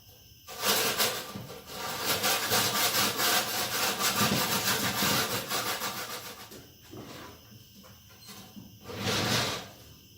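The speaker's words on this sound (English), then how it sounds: "we're going to want to use our sandpaper and sand all of our edges." Sandpaper scrapes over the edges of a wooden fire pit piece in steady back-and-forth strokes, close and fairly loud, with a pause before a final burst of rubbing.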